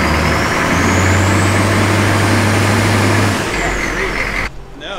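A turbocharged Humvee with a 4-speed swap holds its engine against the brakes to build boost: a loud, steady diesel drone with a rising turbo whistle, which then drops away as the revs fall.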